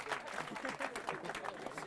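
A seminar audience applauds with quick, uneven claps, faint and somewhat distant, with a voice talking over them.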